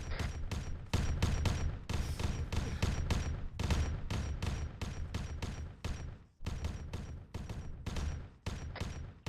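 Gunfire and grenade blasts in a Warhammer 40k video game, a dense, loud, continuous barrage of rapid shots and thumps with brief gaps.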